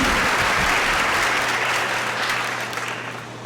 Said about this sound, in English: Let's give them both a big round of applause